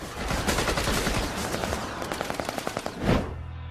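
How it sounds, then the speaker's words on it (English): Rapid bursts from a 25mm chain gun mounted on a patrol boat, a dense run of sharp repeated shots lasting several seconds with no talk, ending in one heavier boom. "This is a 25mm chain gun, and this actually allows us to fire high explosive rounds into vessels"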